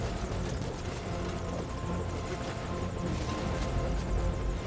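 A helicopter in the Metal Gear Solid V: Ground Zeroes video game thrums with a dense, steady rotor and engine roar that fills the scene continuously at moderate distance, with no speech.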